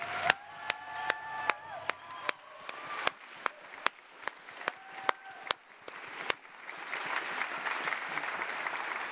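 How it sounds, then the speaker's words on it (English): Audience applause at an Indigenous honouring ceremony: a dense, sustained patter of many hands clapping, steady throughout, with a few sharp isolated claps standing out early on. "Let's just give these guys one more round of applause"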